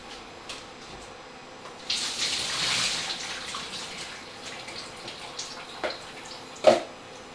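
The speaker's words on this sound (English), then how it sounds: "I'm going to drain my potatoes" Boiled Maris Piper or King Edward potatoes are drained, with a rush of water pouring out for a few seconds, then quieter trickles and a couple of sharp knocks of pan or colander.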